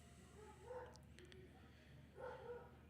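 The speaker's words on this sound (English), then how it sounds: "I don't know why the dog's going nuts outside" A dog barking outdoors in two short bursts, faint and distant beneath steady background noise.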